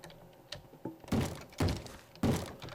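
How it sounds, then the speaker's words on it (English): A zombie bangs on a door in a survival building video game, with three heavy, evenly spaced thuds following a few lighter knocks, loud and close with no talk over them. "I just don't want to hear the zombie banging on my door"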